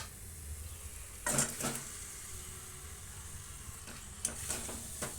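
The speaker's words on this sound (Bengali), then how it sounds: "নাড়তে নাড়তেই টমেটোটা নরম হয়ে যাবে টমেটো নরম হয়ে গেছে দিয়ে দেবো ম্যারিনেট করা মাটন" Marinated mutton added to softened tomatoes in a pan, a faint steady sizzle with a few soft scraping bursts as it is stirred, no talk.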